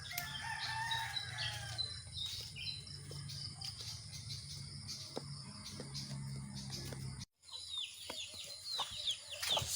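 Roosters and chickens call outdoors over a steady insect chorus, with clucks and crows scattered throughout and a brief drop near the end.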